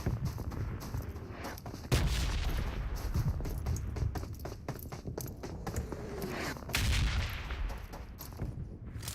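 Rapid bursts of gunfire crackle throughout a battle royale video game match, with heavier booming shots near the two- and seven-second marks, dense overlapping reports from several weapons and occasional footstep-like clatter.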